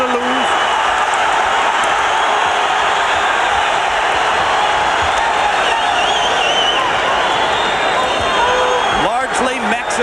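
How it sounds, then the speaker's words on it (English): Largely Mexican-American Texan crowd on its feet at a WBC featherweight championship boxing match, a loud continuous roar of cheering filling the whole stretch, with a commentator talking over it. "Largely Mexican-American Texan crowd on its feet, rooting for Gonzalez"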